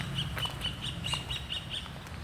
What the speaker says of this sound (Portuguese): Olha o barulho dos pássaros.